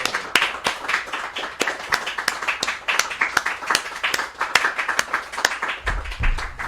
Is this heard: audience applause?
yes